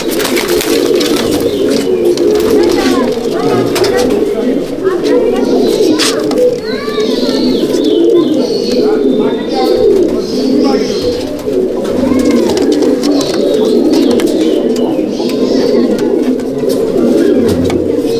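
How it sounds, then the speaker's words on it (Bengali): Black pigeons in a Halisahar loft keep up a loud, unbroken chorus of rolling coos, with scattered higher chirps and someone talking over the flock throughout. "দেখুন, দুখানা কালো পায়রা শখ করাচ্ছি আপনাদেরকে।"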